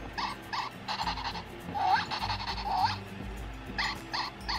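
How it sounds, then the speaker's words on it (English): A toy puppy gives short electronic yapping barks when its back is pressed, several quick repeated bursts with pauses between, fairly faint over a low background. "there is one puppy that actually barks"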